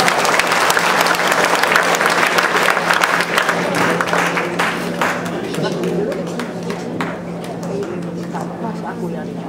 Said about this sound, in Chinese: 那再次给陈教授掌声好不好？